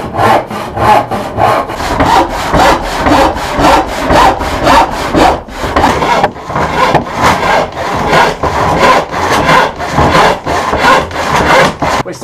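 A restored Invincible hand saw cuts through wood in a steady rhythm of about two strokes per second, loud and close, with a brief pause midway before the strokes resume.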